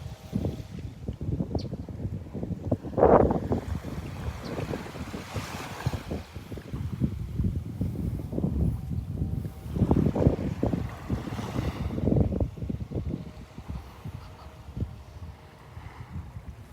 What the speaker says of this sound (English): The wind ruffling their feathers.